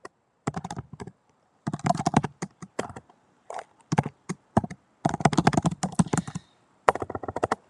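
Rapid clattering keystrokes on a computer keyboard, typed in bursts with short pauses between them, close and fairly crisp.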